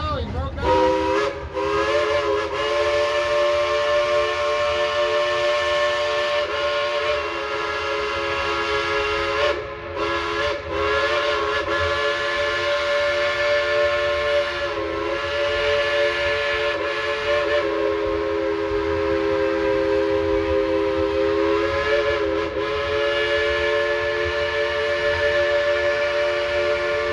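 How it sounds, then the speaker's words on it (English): The Dollywood Express steam engine blows its whistle loud and long, a sustained multi-tone chord holding for nearly half a minute with brief dips, over train rumble and faint voices. "tell Engineer Rob to blow that whistle of his real loud and long"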